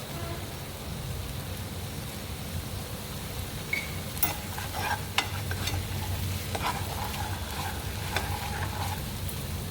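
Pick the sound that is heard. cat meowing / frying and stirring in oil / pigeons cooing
frying and stirring in oil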